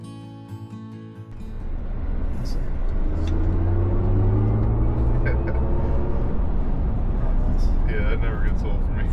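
A Chevy Silverado EV electric pickup truck accelerates hard, its rising whine climbing steadily over a loud road and wind roar heard from inside the cabin, with a voice briefly at the start and end.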